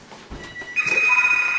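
A telephone rings in a kitchen while toast is being made in a toaster oven. After a soft bump, a steady, bright electronic ring starts and holds, fairly loud and close, with no talk.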